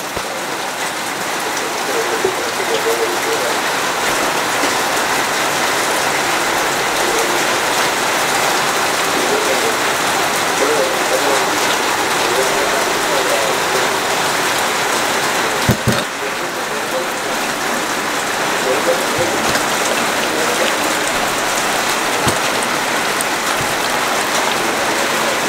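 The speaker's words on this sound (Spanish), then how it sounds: "Bajo la lluvia intensa." Heavy rain pours steadily outside a family home, a loud, continuous broadband hiss of drops striking surfaces that fills the whole stretch with no let-up and no voices.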